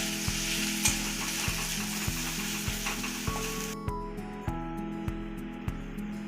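Grated ginger and garlic frying in a pan after red chillies, a steady loud sizzle with regular clicks of stirring throughout.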